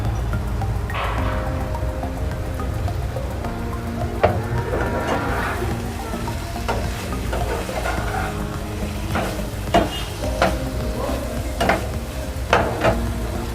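Fried eggs going into a softly cooked onion-tomato masala in a pan: a continuous low sizzle and bubbling with scattered sharp clicks and scrapes of a spoon, close and without talking.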